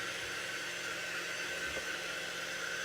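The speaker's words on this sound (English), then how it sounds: "So that's why a blow dryer would work just fine." A blow dryer runs steadily the whole time, a constant loud airy hiss used to dry craft paint on a holiday decoration, with no talking over it.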